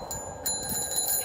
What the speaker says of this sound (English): these are the bikes. Oh wait, the bell.